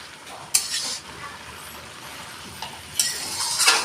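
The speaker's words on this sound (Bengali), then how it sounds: "এবার একটু উপর নিচ করে দেব" Greens and potatoes for a fish curry are turned over in a pan. A soft sizzle sits underneath as two bursts of scraping and tossing stand out, near and brief, with no one talking.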